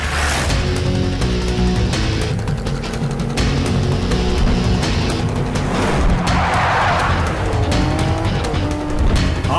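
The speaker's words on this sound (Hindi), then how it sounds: "और तेज चलाओ, और तेज।" A car races at high speed during a movie chase, engine roaring continuously with tires squealing and skidding, loud and dense throughout.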